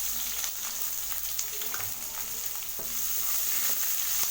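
Chopped onion sautéing in hot oil with dried chillies for a capsicum and peanut poriyal, a steady close sizzle with occasional scraping stirs and light clinks, no talk.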